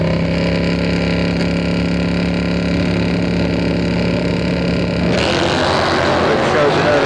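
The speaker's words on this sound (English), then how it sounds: "Both riders on Harley Davidsons." Harley-Davidson motorcycles at a 2002 AMA/Prostar drag racing event in Atlanta hold a loud, steady engine drone with harmonic revving for about five seconds, then burst into a rougher, broader roar as they launch.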